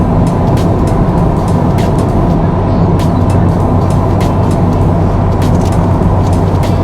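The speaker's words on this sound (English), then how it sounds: "just accelerating all the way around that bend" A VW Golf R Mk7.5 accelerates around a bend, its engine a loud, steady drone heard from inside the cabin, with road noise and occasional ticks over about seven seconds.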